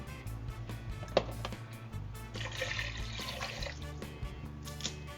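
Two and a half cups of water poured into a pan of ground beef with taco seasoning and tomatoes, a continuous splashing, gurgling pour with a sharp clink at the start, close and moderately loud.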